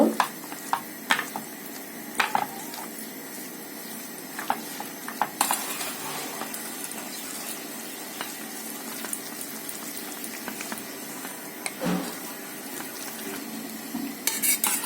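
Batter for jute leaf fritters being mixed by hand in a bowl, soft wet squelching and stirring strokes with occasional sharp clinks of utensils against the container, close and quiet.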